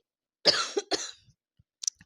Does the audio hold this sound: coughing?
yes